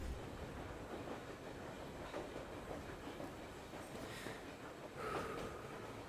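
A train idling in Metro Exodus, heard as a steady, low rumbling hum with faint metallic clanks and creaks over a constant background, with no voices.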